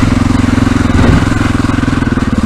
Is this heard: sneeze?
no